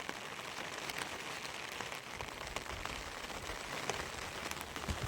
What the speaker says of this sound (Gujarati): અત્યારે ચાલુ જ છે વરસાદ